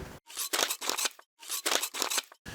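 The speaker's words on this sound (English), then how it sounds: "My scissors are getting kind of dull, but we'll just kind of cut around inside of here." Dull scissors cutting through felt for a model roller coaster kit, close and fairly quiet, heard as two bursts of rough, crunchy snipping strokes separated by brief pauses.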